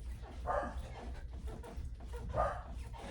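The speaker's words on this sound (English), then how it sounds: "my dogs are barking downstairs because I'm making a lot of noise up here" Dogs bark twice, muffled and distant as if from another floor, with faint background noise between the barks.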